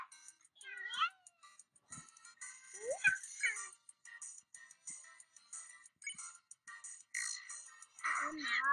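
Several short, high-pitched cat meows and mews from a video game, repeated in quick bursts against soft chiming game sounds, with no one talking.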